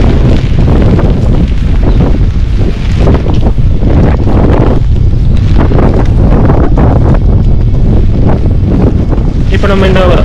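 Strong wind in rain in Auckland buffets the microphone, making a loud, constant roar with rushing gusts.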